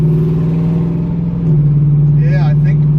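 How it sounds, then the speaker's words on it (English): A turbocharged Chevrolet Camaro ZL1 fitted with a very large turbo drives along, its engine holding a loud, steady mid-pitched drone throughout, with a brief higher chirp near the end. "Alright, so I'm gonna go for a drive here just to test everything out."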